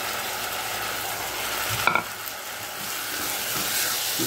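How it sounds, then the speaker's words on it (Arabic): Rice sautéing in ghee and oil, a steady close sizzle with stirring scrapes and a couple of sharper clinks partway through, continuous with no talk. "هنبدا بقى نحط الرز ونشوحه في قلب السمنه والزيت دول"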